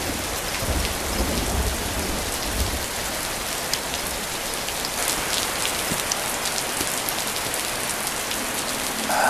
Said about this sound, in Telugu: వర్షం తగ్గాక వెళ్ళొచ్చులే